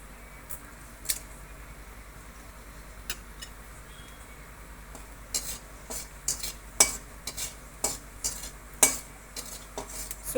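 Dried red chilli and nigella seeds fry in oil with a soft, faint sizzle, broken by scattered clicks and taps of a utensil against the pan that grow busier toward the end.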